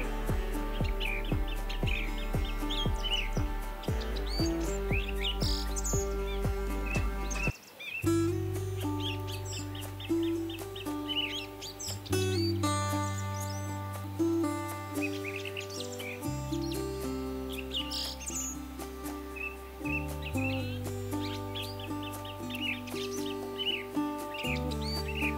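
A black drongo, a bird that mimics other birds, gives a long run of varied calls: repeated chirps, whistles and trills over a continuous low tonal background, with no talk.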